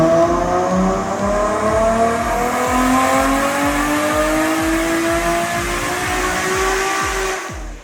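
A Nissan 240sx with a stock RB25DET NEO engine roars on a dyno at about 450 wheel horsepower as its clutch slips. The loud, steady, close engine howl climbs in pitch before cutting off at the end.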